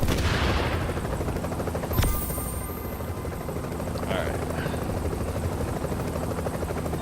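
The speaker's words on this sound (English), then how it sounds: "We gotta wait for the chopper to actually leave." A helicopter lifts off and departs in the video game The Division, its steady rotor roar filling the scene behind a brief sharp impact, slowly easing as it leaves while a voice speaks briefly.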